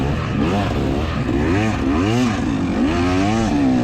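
A two-stroke dirt bike engine at a hare scramble, loud and close, revving in repeated rising and falling sweeps as the rider works the throttle, with a steady rough engine drone filling the whole stretch.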